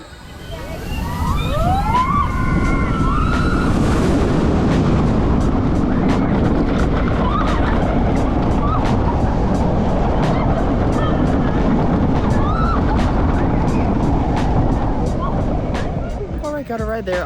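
A roller coaster ride at the Djurs Sommerland theme park roars loudly and continuously, with rattling track noise and high whistling squeals over a rushing rumble that fades at the very end.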